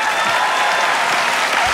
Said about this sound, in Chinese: 掌声给吴兴泰